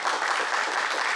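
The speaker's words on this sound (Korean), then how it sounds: "박수 한번 주시죠." Audience applause at a talk concert, a dense steady clapping from a crowd, loud and continuous for a brief moment.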